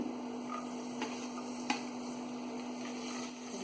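Garlic and ginger sautéing in hot oil over a high flame, a continuous low sizzle with a steady hum underneath and a few light stirring ticks, close by with no voices.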